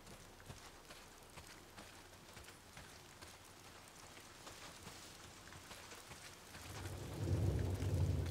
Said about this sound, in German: dieser scheiß Regen hört sich an, als wenn da jemand laufen würde